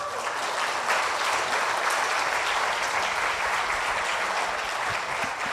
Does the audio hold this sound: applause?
yes